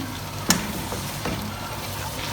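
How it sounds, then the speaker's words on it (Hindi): Beef pieces frying for biryani over a medium-to-low flame give off a steady, soft sizzle, broken by a sharp clink near the start and a fainter knock later. "मीडियम टू लो फ्लेम पर भुनाई करते जाएं।"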